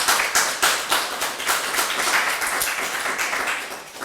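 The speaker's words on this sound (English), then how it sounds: "Round of applause, please." An audience claps at a book launch on the history of Liberal Judaism, a fairly loud and dense burst of hand claps that keeps going steadily for the whole stretch.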